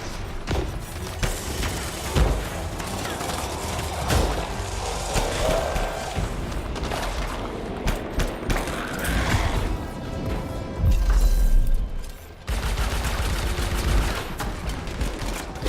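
Dense gunfire and rocket blasts from the Anthem video game, a continuous loud barrage of rapid shots with heavy booming impacts and crashes throughout.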